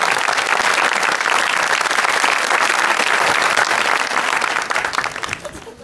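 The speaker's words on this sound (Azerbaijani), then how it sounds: "Alqışlarınızla sosial eksperiment." A studio audience at a comedy show breaks into loud, dense applause that holds steady for several seconds before starting to thin out near the end.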